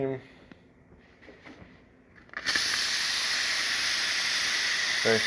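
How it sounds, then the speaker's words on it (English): The steam wand of a freshly serviced Zacconi espresso machine bursts into a loud, strong, steady hiss after a quiet start and keeps going to the end. "Nice strong steam."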